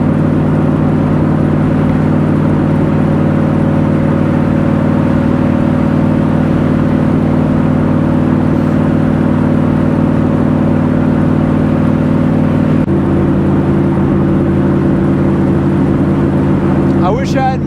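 A Superformance-built Shelby Cobra's engine drones loud and steady, its tone shifting partway through as the throttle changes, with interior road noise underneath.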